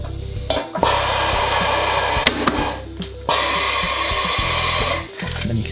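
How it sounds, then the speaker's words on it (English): An aluminium bifold door profile is cut by a punch tool for the shoot bolt hole, giving a loud, sustained grinding, machine-like roar with a few brief breaks and sharp clunks, with no speech over it. "you can see that takes out the exact perfect hole for your shoot bolt section"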